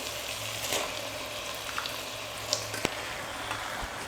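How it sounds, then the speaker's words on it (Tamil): Chicken pieces sizzling as they go into a frying tomato-onion masala for a Tamil chicken and potato gravy: a steady, even hiss of frying with a few soft clinks and taps of utensils, no talking. "இப்போது இந்த சிக்கனை சேர்த்துடுறேன்."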